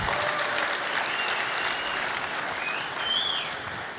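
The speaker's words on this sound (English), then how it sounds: "you can clap if you want." A conference audience at a Google I/O photos presentation breaks into sustained applause, a dense, even wash of clapping that holds steady for the full stretch before easing slightly at the end.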